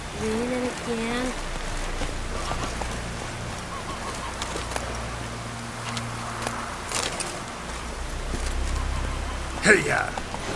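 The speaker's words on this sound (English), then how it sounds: "Raining again." Rain falls steadily in The Witcher 3, a soft continuous hiss of drops with faint bird calls and a short louder splash near the end, under brief character speech.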